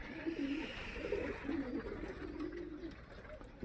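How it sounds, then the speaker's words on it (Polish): Pigeons in a loft with aviaries coo steadily in low, throaty, overlapping murmurs, a close and continuous flock sound with no talking. "widzieliście te gołębie"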